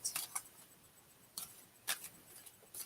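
Playing cards being shuffled during a tarot-style reading, with a few sharp riffling bursts spaced apart, close and fairly quiet, with no talking.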